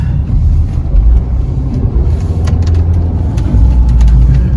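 A car drives along plowed, snowy winter roads in hilly Moncton in January, its steady low engine and tyre rumble close and continuous, with a few faint ticks and clicks over the top.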